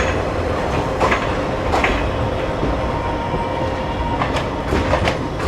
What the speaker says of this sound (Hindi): यहाँ इस ट्रेन को लगना है, और ये देखिए कितनी स्पीड में आ रहा है